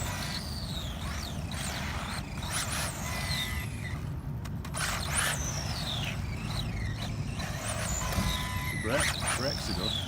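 A Tamiya TRF503 radio-controlled car drives with a whining electric motor that rises and falls in quick sweeping bursts, while a person talks over it.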